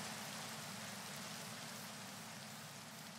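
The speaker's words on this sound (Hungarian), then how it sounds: "persze nem lehet látni, mert esik az eső" Steady rain falls in Minecraft, a dense continuous hiss that stays constant throughout with no talk over it.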